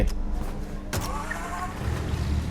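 A car in Mafia: Definitive Edition, its engine idling and rumbling low and close, with a brief sharp mechanical click or thump near one second and a steady drone continuing after.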